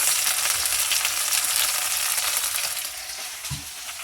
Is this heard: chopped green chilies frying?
yes